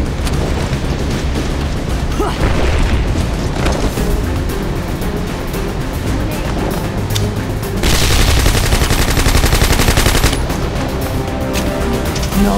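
A video game firefight plays at high volume, with dense overlapping gunfire and rumbling blasts filling the whole span. A heavier explosive burst stands out near the middle, consistent with a grenade going off.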